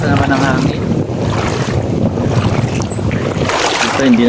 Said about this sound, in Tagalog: Lumalakas na naman ang hangin.